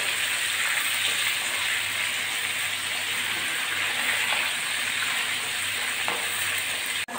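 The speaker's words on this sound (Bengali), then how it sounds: "এক পাশ হয়ে গেছে, আর এক পাশ উল্টায় দিচ্ছি মাছ ভাজা।" Fish frying in hot oil after being turned over, a steady, dense sizzle holding at one level throughout with no talk, cut off abruptly at the end.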